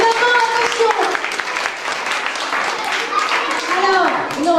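Audience applause at a children's end-of-year stage show, a steady wash of clapping held at an even level throughout while a voice speaks over it and calls out names.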